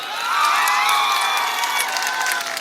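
Political rally crowd in Bihar cheering with whoops and shouts, a dense, sustained roar of many voices with some scattered clapping, steady and loud throughout.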